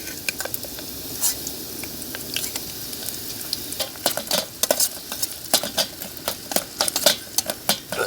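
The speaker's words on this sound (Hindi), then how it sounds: "इसमें पनीर डाल के इनको अच्छे से यहाँ पे फ्राई कर लेते हैं" Paneer pieces frying in a pan at an outdoor night campsite, a steady close sizzle broken by frequent sharp spatters and pops that grow busier toward the end, with no talking.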